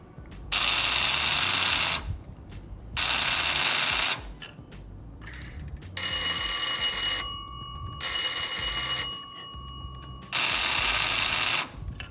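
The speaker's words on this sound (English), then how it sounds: "Now let's try our buzzer." An electric buzzer in a combination circuit sounds in five loud bursts of one to two seconds each, separated by short silences, with a harsh, steady drone.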